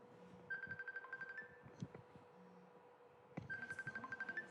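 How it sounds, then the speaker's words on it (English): A cell phone rings in a lecture hall during an academic symposium; two bursts of a repeating electronic ringtone, quiet and somewhat distant, separated by a pause with faint room noise and brief knocks. "It sounds like a cell phone, but I haven't got one with me."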